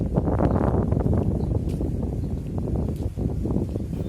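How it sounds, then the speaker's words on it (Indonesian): Strong wind blowing across the Lagoi area of Bintan during the seasonal shift between monsoon winds, a loud, steady roar with gusty buffeting that fills the whole stretch, without speech. "Angin masih bertiup cukup kencang."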